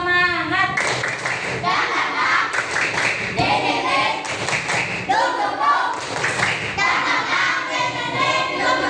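A primary school class of children performs a rhythmic spirit clap, loud close patterned bursts of clapping and slaps in set groups, with children's voices chanting along.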